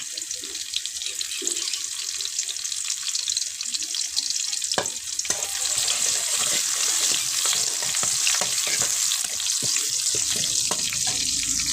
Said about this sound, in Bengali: একটু ভালোভাবে ভেজে নেব।